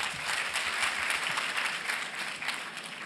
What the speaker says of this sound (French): Et donc des applaudissements encore pour lui.